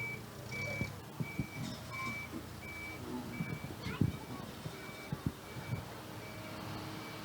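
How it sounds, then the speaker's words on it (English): A state truck reverses at a giant pumpkin weigh-off, its backup alarm beeping at a steady regular pace throughout, moderately loud over engine rumble, crowd noise and people talking nearby. "John, if you notice the license plates on this truck, it is a state vehicle."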